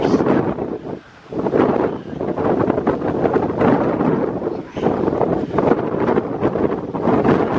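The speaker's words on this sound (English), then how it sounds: "all you guys are probably hearing is wind" Strong wind roars and buffets close to the microphone in heavy, rumbling gusts beside stormy, choppy water, briefly dropping before surging again, loud and continuous.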